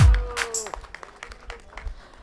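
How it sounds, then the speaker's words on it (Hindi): Applause from an audience at a Hindi devotional Sawan Somvar ceremony, a burst of clapping that is strongest at the start, then thins into scattered claps. "जोरदार तालियां।"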